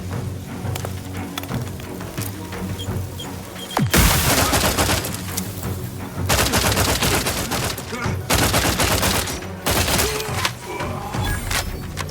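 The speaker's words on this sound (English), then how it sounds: "Explosive result. Grenade outbound." Heavy bursts of gunfire and blasts in a combat fight in The Outer Worlds 2, loud dense volleys starting a few seconds in and recurring in long stretches, with quieter gaps and background game sound in between.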